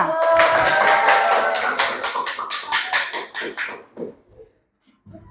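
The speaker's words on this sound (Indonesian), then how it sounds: "Tepuk tangan untuk kelompok 2." A class applauds group 2, with a burst of steady, fairly close clapping from many hands that thins into a few scattered claps and fades to quiet.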